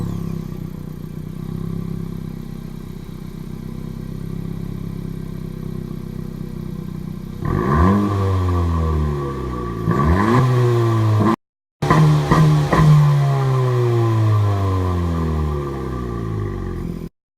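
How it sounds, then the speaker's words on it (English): A 2017 Honda Civic Si with its stock exhaust idles quietly, then revs hard in several sharp throttle blips that rise and fall, with a brief gap between bursts; close and clear, no talk. "Stock exhaust."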